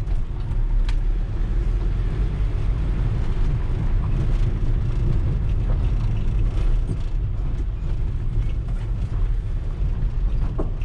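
A truck drives toward a back entrance to deliver a large bodykit, its steady low engine rumble continuous and fairly loud, with no talking.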